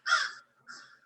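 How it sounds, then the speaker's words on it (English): A crow caws through an open window, two harsh calls with a short gap between them, fairly faint and at a distance, with no talk over them. "Sounded like a crow."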